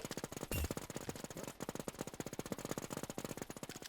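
Sustained rapid automatic gunfire in a video game, a fast even stream of shots at a steady rhythm that runs throughout and stays fairly faint, with one louder burst near the start.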